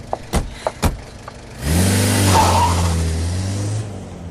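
Car engine starts and drives off: a few sharp knocks like doors closing, then a steady engine rumble builds and holds for a couple of seconds before fading.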